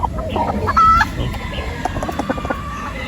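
Chickens on a breeding farm, including a gray hen, cluck in short, irregular bursts close by, with a brief crowing call near the start over a quiet background.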